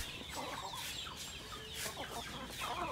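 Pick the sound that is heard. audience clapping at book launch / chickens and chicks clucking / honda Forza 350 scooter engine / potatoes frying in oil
chickens and chicks clucking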